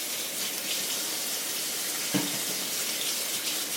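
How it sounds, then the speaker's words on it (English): Water runs steadily from a kitchen tap while hands are washed during food preparation, a constant hiss with a brief splash midway. "I'm gonna have to wash my hands."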